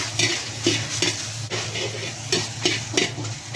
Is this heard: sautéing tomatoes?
yes